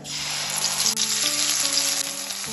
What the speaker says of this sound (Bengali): এবার এর মধ্যে দিয়ে দেবো পেস্ট করা মটরশুঁটিটা।